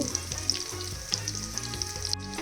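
Egg-coated country chicken fries in a pan with a loud, close crackling sizzle, dotted with bright spatter pops throughout.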